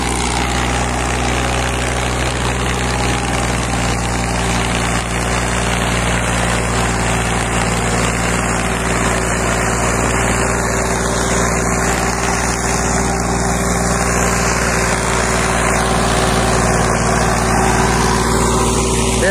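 A Powertrac tractor engine drones continuously at close range with a constant low hum and no voices, holding an even idling pitch throughout.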